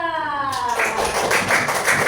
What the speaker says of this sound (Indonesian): kita beri tepuk tangan dulu buat kelompok 2